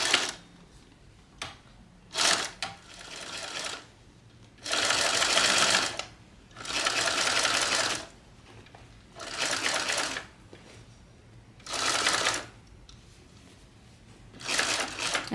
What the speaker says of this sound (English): I'm going to do a couple of back stitches there